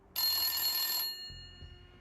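A single bright electronic ring from a mobile phone sounds for about a second and then fades, with a quiet low rumble afterward.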